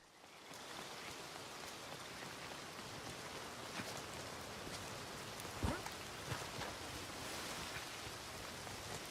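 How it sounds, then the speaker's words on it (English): Rain falls at night in the open-world western game Red Dead Redemption 2, a soft, steady patter with a few sharper drops and distant rumbles, quiet and without speech. "Another rainy night"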